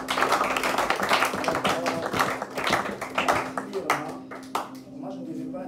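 Church congregation clapping along in worship, steady rhythmic hand claps mixed with voices and music, then thinning to a few scattered taps near the end.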